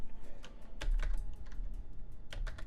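Typing on a computer keyboard, entering a small Michigan town name: a close run of quick, uneven key clicks with a few heavier strokes, no voices.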